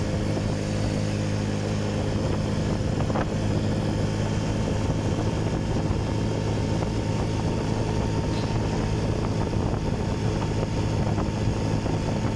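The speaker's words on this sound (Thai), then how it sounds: "วันนี้นะนี่เสียงรถ" Continuous broadband engine rumble and road noise from traffic on a foggy mountain road, steady and fairly loud throughout, with no talking.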